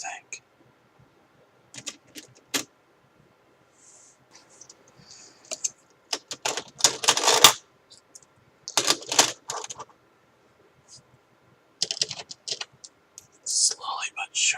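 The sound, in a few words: coins being counted and sorted into piles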